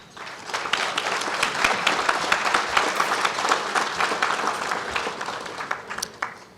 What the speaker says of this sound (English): I'd like you all to give yourself a round of applause